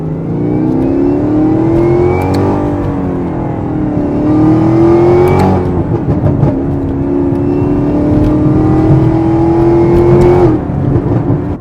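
A car engine fitted with a Corsa Performance cold air intake and exhaust revs hard and loud up close, climbing and falling through several pulls with a whine on top, with a brief drop around a downshift midway.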